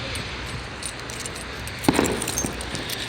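A bunch of keys jangling briefly as they are put away outdoors, a short cluster of metallic clinks in the middle over a quiet background hiss.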